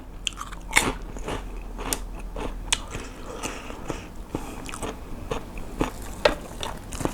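Crisp seaweed-wrapped food eaten alongside Korean-style soy-marinated salmon, heard as a series of sharp, close crunchy bites and chewing at an irregular pace, with no speech.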